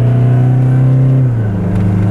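Remapped Toyota Hilux GD diesel pickup engine droning loud and steady at high revs under hard acceleration, its tone dropping briefly near the midpoint as it shifts gear, then pulling on.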